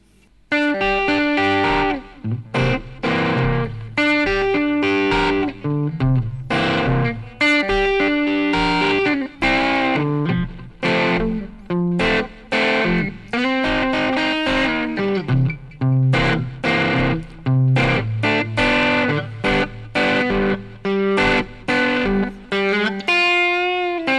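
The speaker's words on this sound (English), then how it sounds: "Same Fender Bassman amp, but now a little bit of distortion." FGN Iliad J-Standard electric guitar chords and riffs played through a Fender Bassman tube amp with light, crunchy distortion, steady and loud with brief pauses between phrases.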